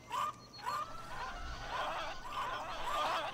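Chickens in the zoo-building game Zoo Tycoon 2 cluck and squawk in several short, separate calls, moderately loud over a quiet low background hum.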